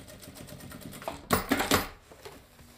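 Home sewing machine running a straight stitch along a seam allowance on a mockup garment, a steady rapid ticking rhythm that surges louder for a second in the middle before easing back, close up with no talking.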